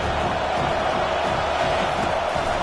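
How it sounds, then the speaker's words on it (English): A college football stadium crowd roars steadily as the home defense pins the offense deep, a dense continuous wall of cheering with no break across the moment. "this crowd trying to help keep them there"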